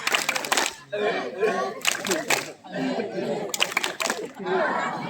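Students at a school Maulid Nabi gathering burst into a rhythmic 'tepuk semangat' clap in quick patterned bursts, mixed with voices chanting and chatter throughout.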